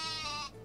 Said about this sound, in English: That was a great sheep.